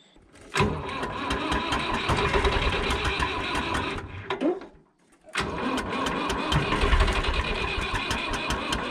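A tractor engine cranks and catches, running roughly, dies for a moment, then starts again and keeps chugging close by.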